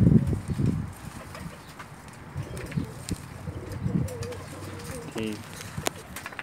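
Pakistani pigeons cooing in a courtship display, soft low coos repeating under heavy low background rumble and handling noise, with someone talking through parts.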